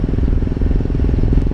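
Motorcycles riding together in a weekend group ride to a waterfall, producing a short, close, rumbling exhaust roar with a rough, crackling texture.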